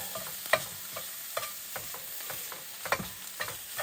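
Breakfast sausage being broken up and browned in a pan at a Christmas Eve campsite cook, a soft steady sizzle punctuated by sharp scrapes and taps of a utensil against the pan, close and with no talking.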